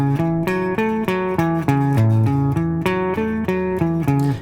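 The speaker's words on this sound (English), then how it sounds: "The rock and roll riff sounds like this." A classic rock and roll riff played on guitar in a steady, repeating boogie pattern of chugging notes, close and even in volume with no talking, ending abruptly.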